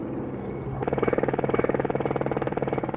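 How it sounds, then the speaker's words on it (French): Helicopter flying over a Caucasus mountain valley in Georgia: a steady rhythmic rotor chop sets in abruptly after a quiet moment and keeps up, fairly close and loud, with no talk. "Sauf si un hélicoptère passe par là."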